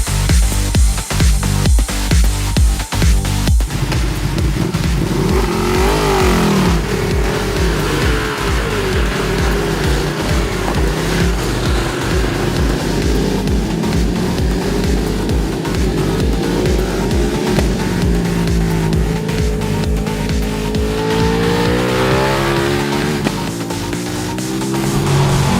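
Ducati 1299 Panigale motorcycle engine revving hard on a race track, loud and continuous with rising and falling revs, gear changes and sweeping pitch shifts throughout, no talking.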